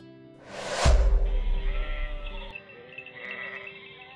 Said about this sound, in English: These are goats.